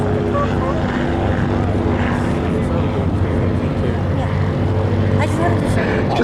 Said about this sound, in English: As the Hawker Nimrod gets airborne off the grass